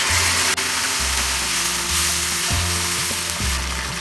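Vegetables with tomato puree frying in a pan for a Bengali-style rohu fish curry, a constant loud sizzle with low stirring thumps recurring every second or so.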